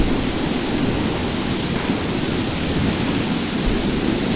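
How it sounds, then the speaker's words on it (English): Heavy rain in Skyrim with the Supreme Aegis Weathers mod: a dense, steady roar of downpour filling the whole clip with no breaks, loud and close, without any voices. "Now this is some heavy rain"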